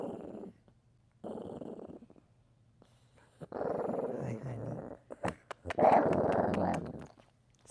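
Low growling from a female dog rises in several rumbling swells, the loudest near the end, while people talk and exclaim nearby over the sound.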